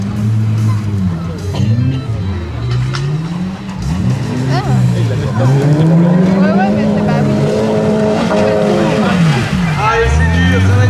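Super Stock-car race cars roar past at a Seine-et-Marne grand prix final, several engines rising and falling in pitch as they pass close by, loud and continuous beneath an excited commentator talking throughout.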